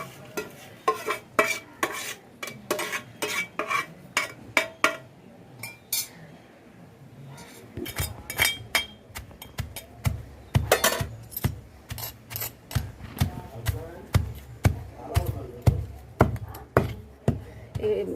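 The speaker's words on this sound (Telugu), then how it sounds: "ఇప్పుడు వేసుకొని నెక్స్ట్ దంచాలి." Salt, tamarind and other ingredients being pounded in a mortar ring out as steady, rhythmic thuds and clacks, close and loud, repeating at an even pace with a short lull partway through.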